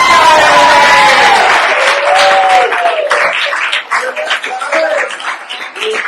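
A live audience at a soapbox show erupts in loud applause and cheering that fills the room and slowly thins into scattered clapping and crowd noise.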